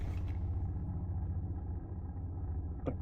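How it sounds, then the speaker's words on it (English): A Coast Guard helicopter passes overhead near water, a continuous low rumbling drone with a steady pulsing beat that stays loud and even throughout, with no talk. "It's just the Coast Guard helicopter."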